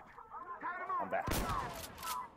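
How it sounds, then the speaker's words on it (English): A voice is heard first, then gunshots from the Insurgency Sandstorm video game break out as several sharp, close cracks in quick succession, fairly loud against a quiet background. "I just shot an enemy in the back as he was running"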